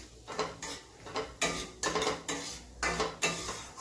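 Semolina roasting in ghee in a pan over a low gas flame, stirred with a utensil that gives a steady rhythm of close scraping strokes, roughly eight of them, with no talking.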